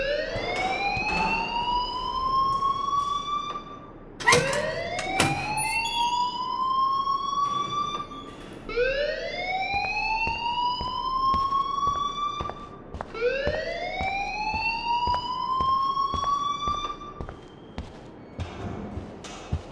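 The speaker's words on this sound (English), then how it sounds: "Leave Miss Caulfield alone and please turn off that alarm since that's your" A school alarm in the video game Life Is Strange wails in repeated rising sweeps, about five cycles with sharp clanks between them, loud and steady throughout.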